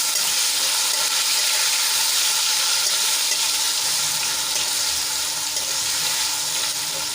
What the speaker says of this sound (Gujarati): બે થી ત્રણ મિનિટ માટે આને તેલમાં આપણે સાંતળી લેવાના છે